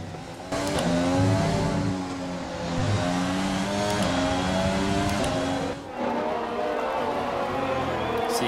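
An F1 2020 race car on the Hanoi circuit howls at high revs, the engine pitch climbing through gears, briefly dropping and cutting as it shifts, then screaming on again loud and close without any talking.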